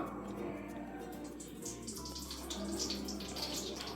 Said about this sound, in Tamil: இப்போ ஆயில் ஊத்திக்கலாம்.